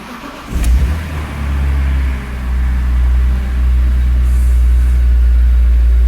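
A BMW E46 M3 engine with a VANOS or throttle position sensor issue cranks in cold weather and catches with a loud burst, then settles into a steady, deep idle rumble that continues to the end.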